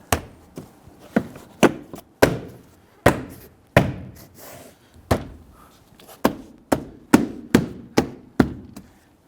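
Plastic push-pin clips on a 2006-2017 Buick Enclave rear door panel snap into the door shell one after another, giving a loud, close series of sharp knocks and thumps in an uneven rhythm, with no talking.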